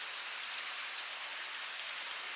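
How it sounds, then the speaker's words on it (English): Heavy pouring rain streaming off rain chains outdoors, a dense, even hiss of falling water that holds steady throughout, close and loud. "It is just pouring and coming off my rain chains"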